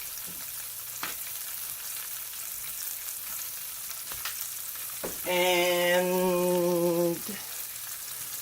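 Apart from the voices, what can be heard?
green beans cooking in a pan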